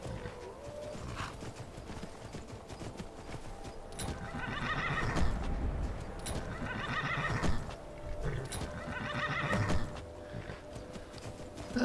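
A horse in the Skyrim video game neighs and whinnies repeatedly over steady clip-clopping hooves, the calls coming in roughly regular bursts, close and fairly loud with no talk.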